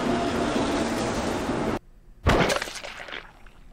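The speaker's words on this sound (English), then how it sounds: "and then the train comes screaming into the station." Train from the Steins;Gate visual novel roaring into a station: a loud, dense rushing wash that cuts off abruptly, then a sharp metallic burst that decays into fading rattles and screeches.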